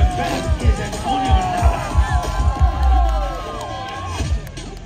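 A crowd at a motorcycle and car drifting show cheers and shouts continuously, with rhythmic whoops and stomping thumps, and a deep engine rumble swelling briefly in the middle.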